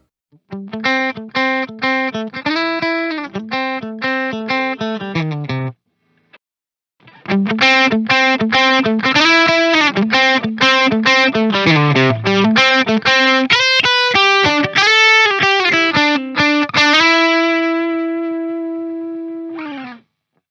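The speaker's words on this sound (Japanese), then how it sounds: "あとはこれも大事な歪みエフェクト。" An electric guitar runs through a distortion effect on a Hotone Ampero II multi-effects unit, playing loud, driven riffs and chords up close; it pauses briefly, resumes with busy runs and ends on a long sustained note.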